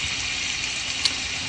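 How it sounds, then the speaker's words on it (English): Chicken pieces for Puerto Rican pollo guisado sizzle in a frying pan, a steady close crackling hiss with a single small pop and no talking. "so you hear it sizzling"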